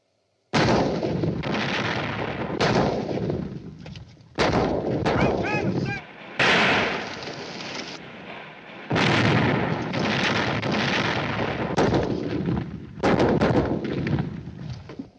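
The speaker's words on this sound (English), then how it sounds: "Siege guns. Bigger than anything we've got." Repeated heavy booms of large guns firing, each blast loud and close with a rolling tail, coming in irregular bursts with brief gaps between.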